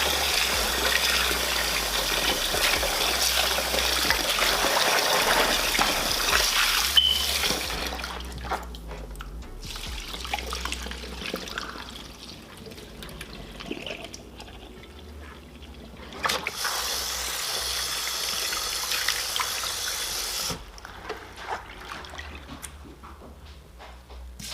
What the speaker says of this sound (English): I'm just going to add water to this now and, start rinsing it out